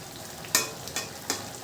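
Fish curry simmers in a pan with a soft sizzling bed of sound, punctuated by three distinct bubbling pops spaced a fraction of a second apart, close and fairly quiet, without speech.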